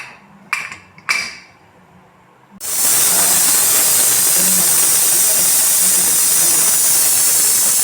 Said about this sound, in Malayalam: ഒരു 4-5 വിസിലിടുക, നല്ലോണം വെന്തോട്ടെ.